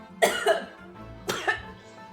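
Someone coughs twice, each a pair of close, harsh bursts separated by a short pause, fairly near and clear.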